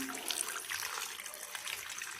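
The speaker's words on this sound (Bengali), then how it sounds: "এখন একটা বাটিতে পর্যাপ্ত পরিমাণে পানি দিয়ে একটু লবণ দিয়ে ভিজিয়ে রাখবো দশ মিনিটের জন্য" Water pours into a bowl with salt for soaking sliced eggplant fritter pieces, a soft, steady splashing trickle heard close up and alone.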